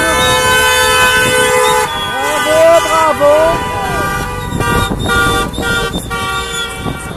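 Passing cars honk their horns at a roundabout protest in Montpellier, a mix of sustained and overlapping toots, some long and some short, close by. A voice briefly calls out over the horns.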